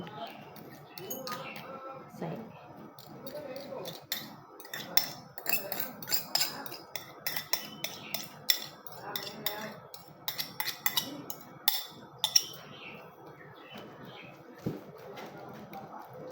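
A utensil whisks a microwaved egg mixture in a bowl for a mushroom cheese bake, giving faint irregular clinks and scrapes against the bowl while someone talks quietly over it.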